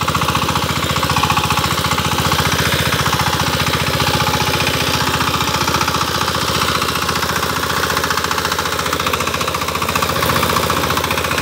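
A Sifang 25 hp diesel power tiller engine runs steadily and loudly up close, a continuous rapid knocking chug with no break or change in pace, working in muddy farmland.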